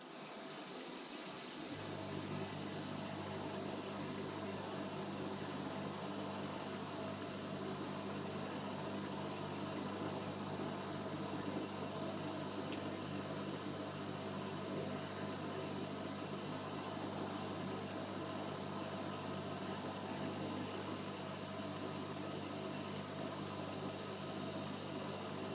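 A ProtoTRAK SMX CNC mill cuts a straight slot, starting after a short pause into a steady, even machining whir and hiss that holds at a constant level throughout, with no talking.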